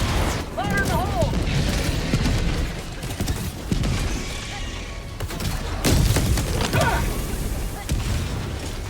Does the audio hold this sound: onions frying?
no